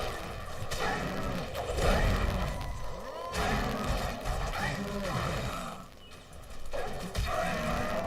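Stampeding minotaurs in the Guild Wars 2 video game, heavy rumbling hooves and crashing impacts in repeated bursts, with animal bellows mixed into a loud, busy game soundscape.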